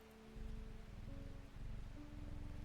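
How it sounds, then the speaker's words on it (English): Rain patters softly in the video game Strange Horticulture, a quiet, steady wash of drops with faint sustained musical tones drifting over it. "It's Wednesday. Still raining."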